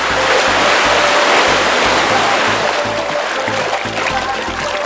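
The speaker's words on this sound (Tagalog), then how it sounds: "Grabe, lakas ng alon." Loud, continuous rushing sea waves roar up close at Black Island, Busuanga, Palawan, like heavy surf, with a rhythmic low pulsing underneath and no clear voices.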